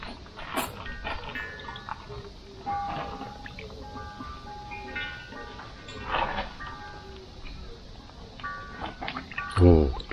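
Two suikinkutsu water chimes placed side by side give a busy stream of bright, ringing droplet tones that overlap constantly, with people talking quietly in the background.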